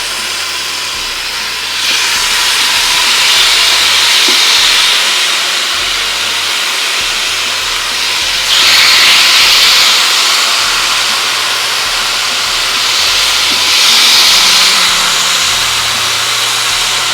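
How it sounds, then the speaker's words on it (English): Whole garlic chicken of about three and a half pounds sizzling loudly in a hot roasting pan, a steady broad hiss that swells in three waves as the bird is set down, with no talk. "Oh, the sizzle is real."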